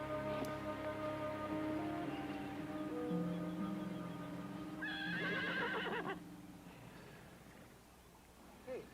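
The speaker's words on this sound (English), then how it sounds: "Was that the car making the horse sound, or where did that come from? I think it was a horse." A horse neighs loudly and close, a long, quavering whinny with strong harmonic tones that rises to a high, shrill peak before fading, followed by quieter background noise.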